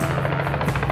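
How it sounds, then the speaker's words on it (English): A helicopter lands near Lake Argyle and Kununurra, making a loud, steady, pulsing rotor and engine roar that dominates with no talk. "Helicopter just landing again. That thing has not stopped all day."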